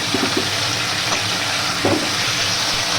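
Fish fries lightly in a wok, a continuous close hiss and sizzle with a few faint clinks and bubbles breaking through.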